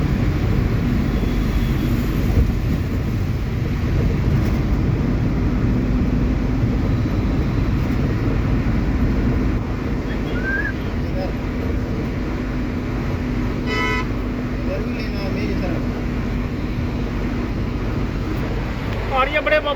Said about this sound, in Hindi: ये देखो कुछ इस प्रकार से नेशनल हाईवे पे चलती रहती है गाड़ियाँ, बड़ी धूल धाकड़ छेड़ती हुई।